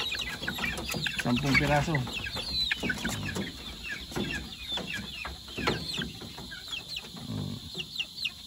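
Young Sweater gamefowl chicks from a 5K Sweater over Golden Boy Sweater cross, cheeping and clucking continuously nearby, with someone talking over them.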